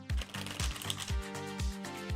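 A deck of tarot cards being shuffled close up, a run of repeated riffling bursts in a steady rhythm with brief pauses between, and no speech.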